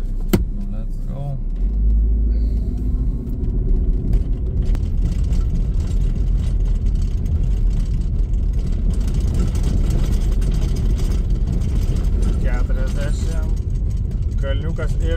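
A car engine revs and pulls away, settling into a loud, steady low rumble that drones on throughout, with a brief voice heard at the very start.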